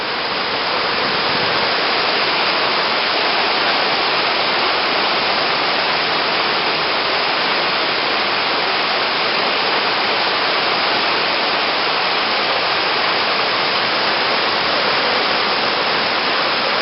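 Floodwater from the flooded Ridley Creek rushes in a loud, constant roar that fills the whole clip without pause, close and steady, with no voices.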